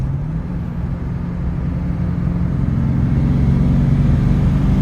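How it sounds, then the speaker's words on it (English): A Duramax LBZ diesel-swapped Suburban towing a trailer pulls hard, its engine drone holding steady and loud throughout a few seconds of acceleration. "I kind of want to see how this thing accelerates with a trailer on it."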